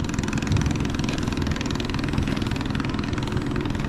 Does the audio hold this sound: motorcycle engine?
yes